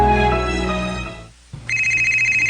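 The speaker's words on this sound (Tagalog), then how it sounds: "May bagting man sa ning akong cellphone." A cellphone ringtone starts after a short pause, a bright repeating electronic chime pulsing steadily and loud, following a droning musical passage.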